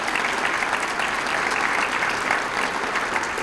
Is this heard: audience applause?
yes